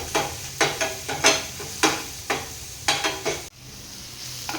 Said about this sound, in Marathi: तेल इथे व्यवस्थित गरम झालेलं आहे। आता ह्यामध्ये ना जे वाटण करून घेतलं ना ते घालून घेते आणि वाटण आहे ते पण परतून घ्यायचं आहे।